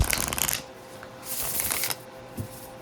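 A deck of cards being riffled twice, crisp fluttering bursts up close, followed by a soft tap.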